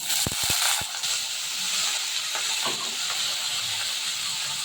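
Potatoes drop into hot oil, where green chillies have just fried, for an Ekadashi potato and papaya dish. A few quick clatters at the start give way to a loud, steady hiss and sizzle that runs on without talk.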